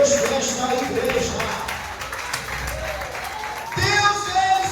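A church congregation applauds during a worship service, a loose patter of clapping mixed with talk and music that swells louder near the end.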